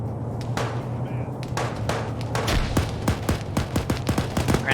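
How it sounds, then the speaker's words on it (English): Grenadier rounds launched during an infantry-focused video game battle: rapid, dense thumps and gunfire-like bursts in a steady barrage, loud and close over low background rumble. "Grenadier rounds being launched as well."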